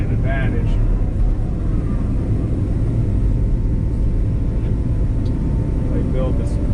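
Inside the cab of a Cat excavator moving rock and grading a pad, a loud, constant engine rumble and hydraulic drone fills everything, with faint snatches of voice near the start and end.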